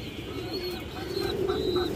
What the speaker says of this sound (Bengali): সিলভার গলা মাদি কবুতর